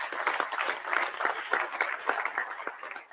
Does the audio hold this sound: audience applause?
yes